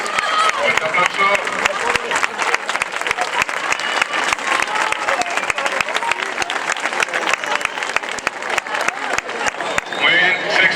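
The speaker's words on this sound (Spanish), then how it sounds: "Fuerte aplauso." An audience at an end-of-year school festival applauds loudly and steadily for about ten seconds, with individual claps standing out and crowd murmur and voices mixed in throughout.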